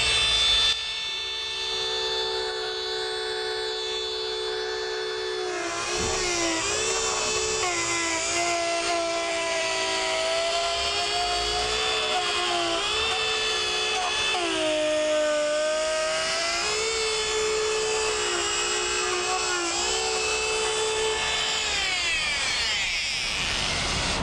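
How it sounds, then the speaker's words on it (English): An offset router trims the excess Formica laminate from the edges of vanity cabinet doors. It gives a loud, continuous high whine that rises and dips as the bit moves along the edge, heard alone without speech. "So right now I'm just gonna trim that off all the way around and get it ready to put the edge banding on. So I'm using an offset router"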